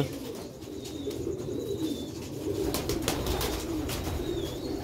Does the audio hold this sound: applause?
no